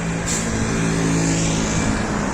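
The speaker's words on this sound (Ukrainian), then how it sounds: "автобуси проїжджають," Buses and cars passing along a street in Cape Verde, a loud continuous roar of engines and tire noise close by, with vehicles rumbling past in steady traffic.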